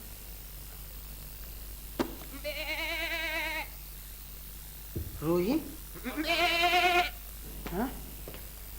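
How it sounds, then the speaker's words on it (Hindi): A goat bleats outside a window in two long, wavering, loud calls separated by a short gap, with a couple of briefer bleats around them, while someone speaks in between. "बकरा? ये अजनबी मेहमान मेरी खिड़की के बाहर क्या कर रहा है?"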